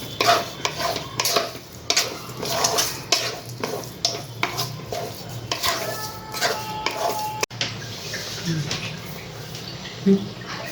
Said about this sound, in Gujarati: હવે આપણે આને ગેસ પર મૂકીને થવા દઈશું. આને સતત હલાવતું રહેવાનું, નહીં તો નીચે પાછું બળી જશે.